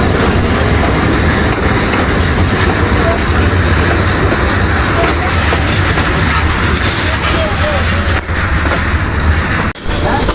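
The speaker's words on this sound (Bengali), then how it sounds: "আমতনগর উপবন এক্সপ্রেস আমাদের ট্রেনটিকে বসিয়ে পাশ দিয়ে যাচ্ছে" Upaban Express passenger train passing close beside a stopped train at a station, a loud steady roar of wheels and rolling carriages with rhythmic rail clatter running throughout, briefly dipping near the end.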